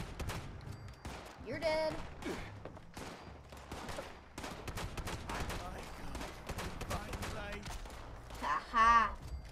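Gunfire in Fallout 76 aimed at a fuel tank: a rapid, dense string of gunshots running through the whole stretch, with short voice bursts over the shooting.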